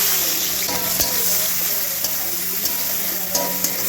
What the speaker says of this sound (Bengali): দিয়ে সবার প্রথমে ডিম দুটোকে ভালো করে ভেজে নেব